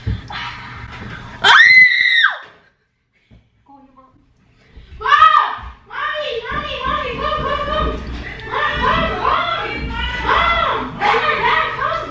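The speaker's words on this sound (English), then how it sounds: "How do I scream?" A person screams loudly and briefly, a rising shriek, then after a short silence breaks into a long run of laughter and excited voices from several people.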